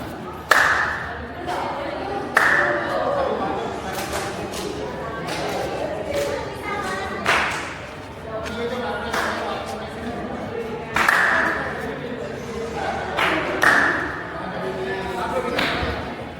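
Sharp hand claps ring out at the entrance of Golconda Fort, a stone hilltop fortress, in bursts with reverberant echo, mixed with someone talking throughout.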